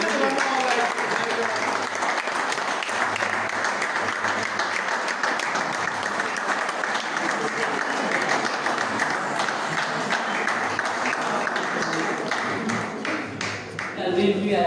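A screening audience claps after a guest singer is introduced, sustained crowd applause lasting well over ten seconds at an even, moderate level, with scattered voices mixed underneath and a slight dip near the end.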